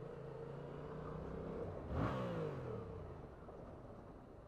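A Yamaha XSR700 cafe racer motorcycle engine hums at a moderate distance, swelling into a brief rising rev as the bike passes close, then easing back to a steady low drone.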